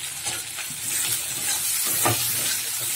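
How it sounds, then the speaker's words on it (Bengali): Shrimp fry in hot oil in a wok, giving a continuous crackling sizzle close by that swells slightly midway, with a few soft stirring scrapes and no talking. "চিংড়ি মাছটা লাল করে ভেজে নেব।"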